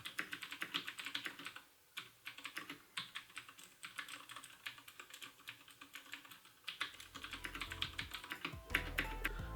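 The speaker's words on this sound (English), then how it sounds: "I'll give you guys a demo of how the Cherry MX blue keys sound right now" Close, crisp clicking of Cherry MX blue switches on a DAS Keyboard Ultimate 4 as someone types rapidly and unevenly, with a brief pause near the start and a low background rumble toward the end.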